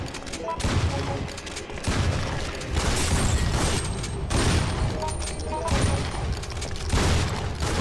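Repeated bursts of gunfire rattle through a Resident Evil Outbreak game scene in the Outbreak scenario as zombies are shot, loud and dense in clustered volleys with short pauses, over low rumbling game ambience.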